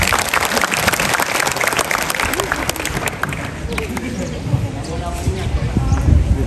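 Loud, sustained clapping from a school crowd fills the whole stretch, dense and continuous with no gaps.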